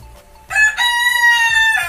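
A rooster crows once, loud and close, a bright drawn-out cock-a-doodle-doo rising after a short quiet lead-in and holding for over a second.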